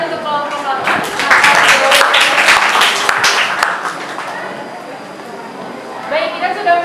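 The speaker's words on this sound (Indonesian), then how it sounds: "beri tepuk tangan untuk kelompok lama" A classroom audience claps for a high school student debate group, a dense burst of applause that builds early, stays strong for a few seconds, then thins out and fades under a low murmur of voices.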